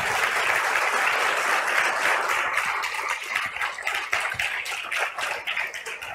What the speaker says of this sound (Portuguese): Você pode aplaudir a Ele por causa disso?